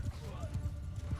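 Horse archers galloping in Mount & Blade II: Bannerlord, a fast clatter of hooves in a battle skirmish with a faint whinny, heard under a voice.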